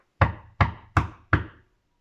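Four sharp knocks on a door, evenly spaced and close, each ringing briefly before silence.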